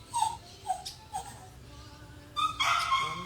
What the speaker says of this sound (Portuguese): Ju, seu cachorrinho, eu tô escutando daqui